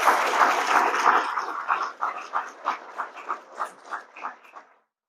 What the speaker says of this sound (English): So if we could just get one more round of applause for these folks.